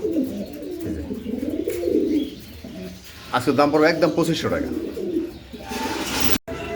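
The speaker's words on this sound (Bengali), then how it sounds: "তারপর দেখতেছেন এখানে এক জোড়া মাল্টেস কবুতর" A pair of Maltese pigeons coo softly at a home pigeon farm while someone talks loudly over them for most of the stretch.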